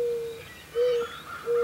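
An owl gives three steady, even hoots in a slow regular rhythm, each a sustained tone separated by short pauses, clear and close over a faint background.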